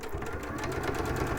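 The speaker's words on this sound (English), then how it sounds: "I think this sewing machine needs a new needle." A sewing machine stitches a quilt continuously with a steady, fast mechanical whir and rhythmic needle chatter, close and even, with a fault that calls for a new needle.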